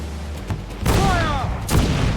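Naval cannon fire in an Assassin's Creed IV: Black Flag sea battle; two heavy booming blasts about a second apart, the first trailing a whistling shot, over a low rumble.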